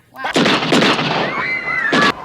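Gunshots fired at a shark from a life raft ring out as loud, booming bursts, a rapid cluster followed by one more blast near the end.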